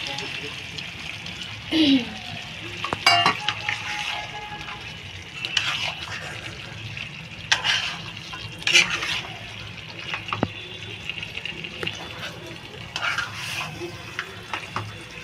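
Wheat flour is poured and stirred into a Bengali gourd and snakehead fish dish cooking in a pan, giving soft scraping and stirring noises with low bubbling, interrupted by a few louder clanks and a person talking.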